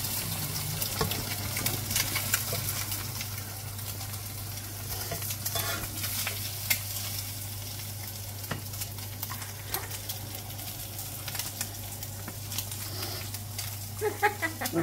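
Bacon frying in a pan for a home breakfast, steady soft sizzle with occasional stirring scrapes and clicks, under a low constant hum and some talking.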